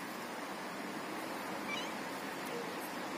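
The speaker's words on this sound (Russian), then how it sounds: "Киса, ты пришла ко мне сюда мяукать?" A house cat meows indoors, giving a faint, brief meow or two over a steady broadband background hiss, fairly distant and low in level, with no talk.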